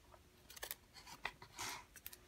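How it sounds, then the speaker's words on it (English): Faint, close snips of scissors trimming the edges of gift bag paper, several quick cuts in an irregular rhythm in a quiet room. "Just going to trim off the edges."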